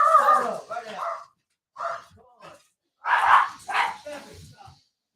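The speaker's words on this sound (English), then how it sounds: "We have a freaking dog going crazy." A dog barks excitedly in short bursts in the background, intermittent and mid-distance, with someone talking over and between the barks.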